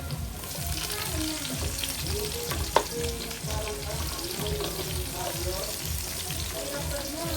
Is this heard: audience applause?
no